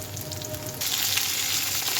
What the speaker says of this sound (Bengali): মাছটা দিয়ে দিলাম, মাছটা একটু ভেজে নিই।